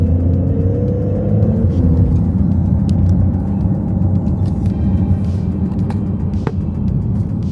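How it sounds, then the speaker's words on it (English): Porsche 992 Carrera GTS driving slowly around a Miami spot, a steady low engine rumble close by with a light whir, no strong revving, continuous throughout. "So I'm gonna bring this car right around here."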